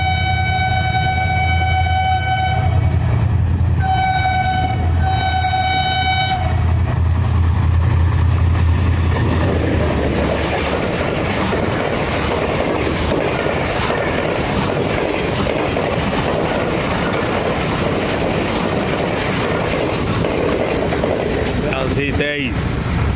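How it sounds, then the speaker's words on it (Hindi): Pakistan Business Express train hauled by an HGMU 30 locomotive, a loud horn blast with steady tones opening, followed by a continuous rumbling roar of engine and rolling wagons close by. "अब बिजनेस एक्सप्रेस HGMU 30 के साथ"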